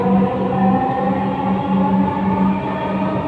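A Dhaka metro train runs between Kazipara and Mirpur 10 stations with a steady, close, low rumble and humming drone, and no voices.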